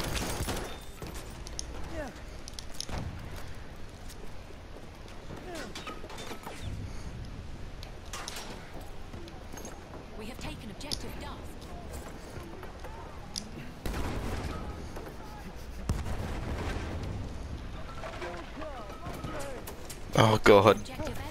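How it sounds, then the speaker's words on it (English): Grenade explosions and gunfire rattle through a Battlefield 1 battle, with muffled bursts building to louder blasts near the end under steady background noise, while a voice talks over them. "The amount of grenades they just wasted on me."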